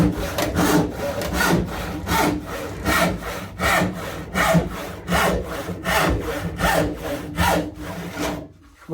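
Disston rip saw cutting through wood with steady back-and-forth strokes, about sixteen rasping pushes and pulls in a regular rhythm, close and loud, ending abruptly.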